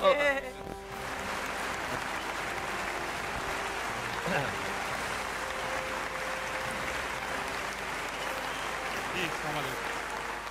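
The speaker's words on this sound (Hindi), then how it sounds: "वाओ, बहुत सारी तालियां" Sustained audience applause fills the hall at a Pakistani drama awards show, a steady dense wash of clapping that swells after a brief opening and continues evenly to the end, with a faint voice briefly over it.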